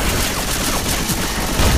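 Continuous rapid gunfire from the zombie shooter Left 4 Dead 2 fills this short stretch, a dense, loud volley of overlapping shots with no clear gaps.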